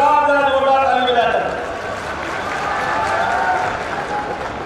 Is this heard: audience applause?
yes